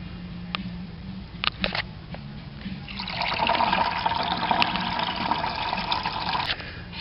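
Water pours into a home-brewing fermenter being filled to 5 gallons for an Oktoberfest lager. A few clicks and knocks come first, then a steady gushing fill starts and runs on.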